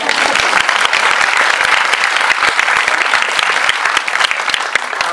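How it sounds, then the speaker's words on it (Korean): Loud, sustained applause from a film screening audience in Korea, dense clapping continuing evenly throughout. "박수는 우리 감독이 이제 그만 긴장하시라고 한번 쳐드리도록 하겠습니다"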